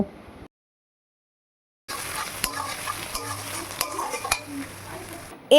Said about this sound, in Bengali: এরপর ওর মধ্যে টমেটো ও গ্রেট করা আদা দিয়ে খুব ভালো করে হালকা করে ভেজে নেব